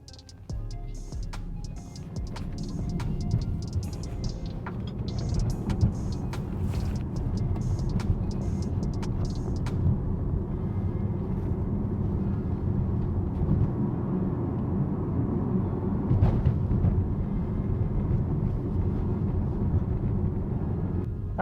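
A Tesla Model 3 on Ohlins coilovers rolls along a back street in an industrial area, giving a continuous low road rumble inside the cabin, with a few sharper knocks and thumps early on and a fairly even drone after.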